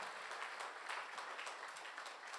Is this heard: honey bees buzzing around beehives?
no